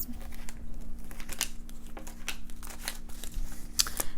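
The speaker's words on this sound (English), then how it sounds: "So I am shuffling our tarot here." A deck of tarot cards is shuffled by hand, producing rapid papery riffles, crisp snaps and soft scraping taps, close and continuous with a faint steady hum underneath.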